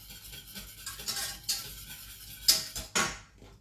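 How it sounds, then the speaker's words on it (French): Egg yolks being whisked in a pot off the heat, a few uneven bursts of whisk scraping and clinking against metal, with short pauses between strokes, close and moderately quiet. "mes jaunes d'œufs en fouettant"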